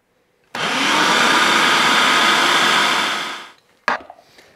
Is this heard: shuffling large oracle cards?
no